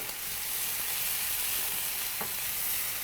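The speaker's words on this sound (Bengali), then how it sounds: "মশলাটা বেশ একটা সুন্দর রঙে এসছে, আমরা একটু কষাচ্ছি" Spice paste with turmeric and chili sizzles steadily in a hot pan while being stirred, a continuous close frying hiss with faint scraping.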